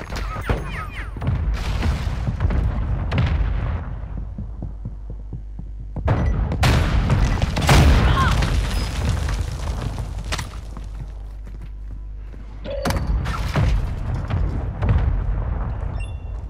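Hostile air strike explosions in Call of Duty Modern Warfare II: deep, booming blasts rumble in heavy bursts, loud and close, with quieter gaps between salvos.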